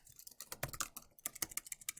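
Quick, uneven clatter of fingers typing on a computer keyboard, close and fairly quiet, with short bursts of keystrokes and brief gaps, and no talking.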